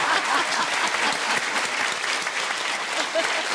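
Audience applause in a studio: dense, even clapping from a sizable crowd, sustained and loud from start to finish with no voices standing out.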